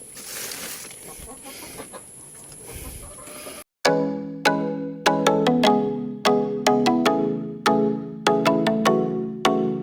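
Laying hens in a backyard egg-raising setup cluck and squawk in a busy, fairly close stretch, then a run of sharp, repeated bright calls rings out in a quick rhythm.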